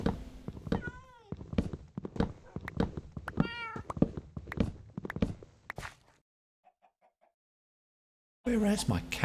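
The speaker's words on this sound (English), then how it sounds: "Look, pretty cat." Minecraft cat meows ring out over a busy run of blocky in-game footsteps and taps, with talking mixed in. A near-silent stretch with faint ticks follows before the game noise resumes abruptly.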